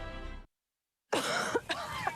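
A person coughs in a Robitussin cough and sore throat remedy advert, two or three close, harsh bursts following a short silence, after a brief stretch of sound at the start.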